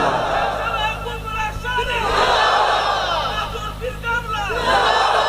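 A large crowd at an outdoor Islamic sermon gathering chants loudly in unison in response to a takbir call, their voices swelling in repeated waves that fill the space.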